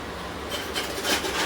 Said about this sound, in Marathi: हे मिक्सरला पल्स मोडमध्ये ठेवून जरा थोडंसं दरदरीतच वाटून घ्यायचं